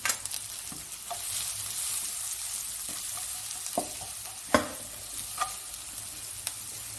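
Onion, garlic, green chilli and spice powders fry in a pan with a steady soft sizzle, punctuated by scattered clicks and scrapes of stirring.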